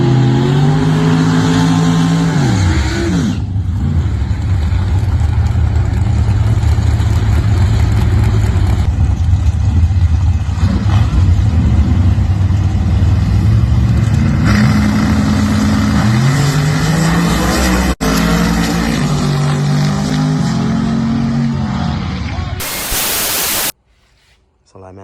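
A drag race car with a 632 big block engine, nitrous-equipped, during a qualifying run: loud engine roaring through repeated rising gear pulls over about twenty seconds, then cutting off abruptly, with wind noise throughout.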